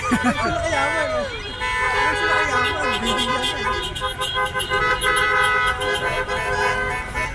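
Car horns honking in celebration in Saudi Arabia after its win of the 2034 bid, a dense, continuous chorus of overlapping toots and engine noise, with crowd babble and voices underneath throughout.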